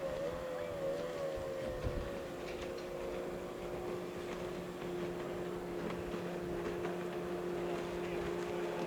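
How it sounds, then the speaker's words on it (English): A racing boat's engine drones steadily in the distance during a Formula Future race, a continuous hum with wind noise over it as the boat passes. "So here comes Maxie Cameron coming across the line now. In a Little Nuts, a little blue and yellow boat."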